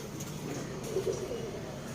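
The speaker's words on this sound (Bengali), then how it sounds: "টিপলার পায়রা দেখাচ্ছি আপনাদেরকে" A Tippler pigeon, a female from a loft, gives a soft low cooing that rolls on steadily for a couple of seconds, faint and close, with no talking over it.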